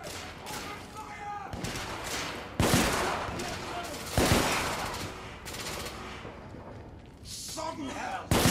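Video game gunfire in The Order: 1886, dense continuous bursts of shots and heavy impacts with loud thumps and slams, under shouted voices throughout the battle.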